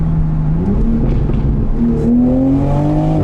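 A Toyota Supra A90 turbo engine accelerating hard from inside the car, with a loud steady engine drone rising in pitch and no talking.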